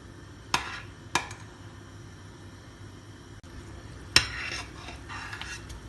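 Spicy sauce for fried vegetables being stirred in a bowl, with three sharp clinks of a spoon against the dish amid softer scraping and swirling sounds, close and quiet between strikes.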